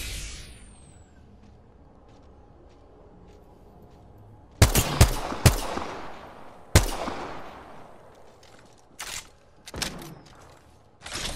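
Gunfire from the shooter video game Apex Legends: after a quiet stretch, a series of sharp loud shots and short bursts ring out with echoing tails, spaced irregularly over several seconds.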